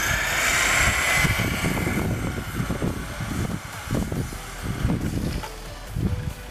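A Traxxas Bandit RC car at full throttle gives a loud, high electric whine that swells at first and then comes in uneven surging bursts as it speeds about, with no one talking.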